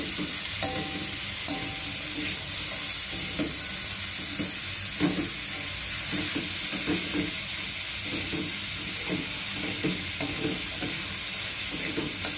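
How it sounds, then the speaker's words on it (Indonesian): Sliced carrots stir-fry in a pan with a loud, steady sizzle, while a utensil scrapes and stirs in irregular strokes close by. "Tumis wortel hingga layu dan empuk."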